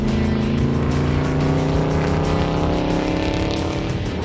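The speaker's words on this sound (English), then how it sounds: "This is a pace car, fast car." A fast pace car drives hard around a dusty race track, its engine a loud continuous roar with a steady pitch held close throughout. No one talks over it.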